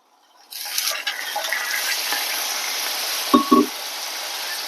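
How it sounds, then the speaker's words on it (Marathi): Water is poured onto jaggery in a pan to melt it for a traditional Konkani jackfruit sweet. A steady close pouring rush starts abruptly and runs on, with two quick knocks near the end. "आता या गुळामध्ये थोडस आपण पाणी घालणार आहोत वितळण्यासाठी"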